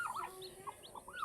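Small hen's chicks, part of a brood of about ten, give a run of high, thin peeps and chirps close by, with a faint clucking hen beneath them; no one talks.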